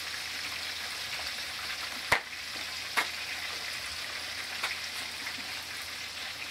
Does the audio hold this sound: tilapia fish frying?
yes